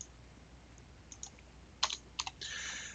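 Keys clatter on a computer keyboard in a quiet room, a few scattered soft taps giving way to quick bursts of clicks and a short run of rapid typing at the end.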